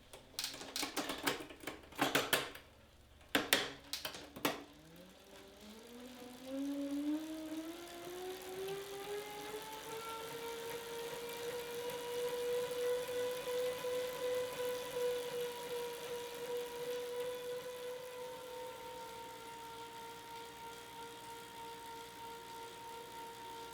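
A CycleOps H2 smart bike trainer first gives sharp clicking and clattering, then its flywheel hum rises in pitch as it spins up and settles into a steady whirring drone, moderately quiet and alone.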